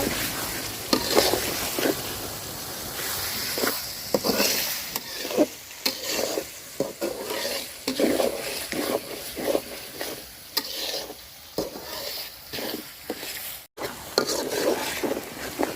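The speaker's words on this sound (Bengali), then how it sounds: "দিয়ে পেঁয়াজটা আমি সুন্দর করে ভাজা ভাজা করে নিব।" Sliced onion frying in oil with bay leaf, cardamom and cinnamon, stirred often so a steady close sizzle is broken by repeated spatula scrapes and pauses, with no talking.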